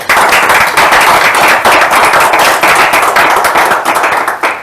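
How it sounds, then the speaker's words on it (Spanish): Loud, close applause at a conference on the European Union and economic recovery, many hands clapping sharply and steadily for the speaker Susana, continuing without pause throughout. "un aplauso para Susana"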